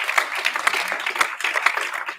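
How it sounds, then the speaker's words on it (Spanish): A church congregation breaks into brisk, dense applause, many hands clapping together at close range for a couple of seconds. "Denle un aplauso a Jesús"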